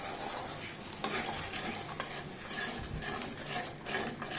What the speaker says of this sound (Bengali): ভালো মতো মিশিয়ে নিলাম